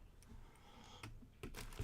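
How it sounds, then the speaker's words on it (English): A computer keyboard is shifted across a desk, giving a few soft scattered clicks and knocks, faint and close, with no talking. "Let's move the keyboard out of the way."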